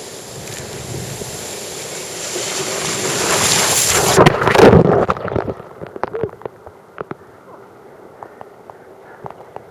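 Ocean waves strike a small boat, with heavy wind rush building to a loud crashing surge, then scattered splashes and knocks as the water settles; a voice is briefly heard.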